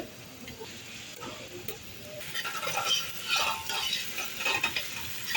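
Tomato paste and tomatoes are stirred into a simmering pasta dish with chickpeas in a pot. A close, continuous sizzle carries busy scraping and stirring, which grows louder in the second half.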